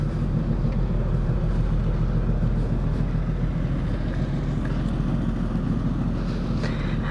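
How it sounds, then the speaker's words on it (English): An Indian Scout motorcycle produces a steady low engine rumble that runs throughout, mixed with wind buffeting on the microphone, and no one speaks. "say hello to my new ride."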